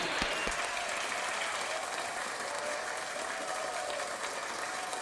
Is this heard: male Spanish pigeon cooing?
no